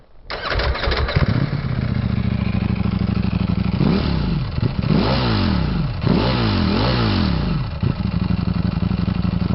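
A Ducati Panigale V4S motorcycle engine runs loud and close, starting up and idling with a rough, throbbing rumble, then revving in several sharp rising and falling bursts.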